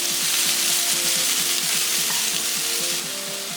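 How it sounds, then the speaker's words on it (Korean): Sweet potato stems stir-fried in a pan with fish cake and onion give a steady, close sizzle that runs unbroken, with a faint tonal backing underneath. "어묵, 양파 넣고 1분 정도 볶아주고 고구마순 넣고"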